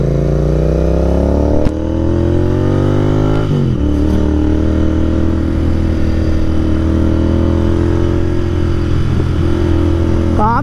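A Continental GT 650 motorcycle pulls away on a Sunday group ride, its loud engine rising through the gears with two clear shifts, close to the rider and steady throughout.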